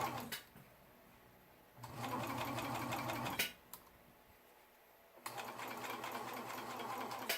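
A serger stitches beads onto a t-shirt sleeve in two runs, each a fast close rattling hum with a quieter pause between them and a few clicks at the stops.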